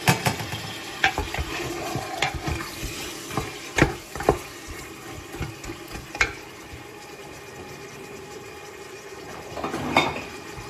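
Pork pieces dropped into hot oil in a pot for a soup, with a steady sizzle broken by repeated clinks and scrapes of a utensil stirring against the metal, close and fairly loud.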